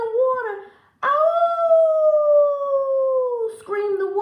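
A storyteller's voice imitates a wolf's pained howl, one long wavering cry of about two and a half seconds, loud and close, set between short spoken bits.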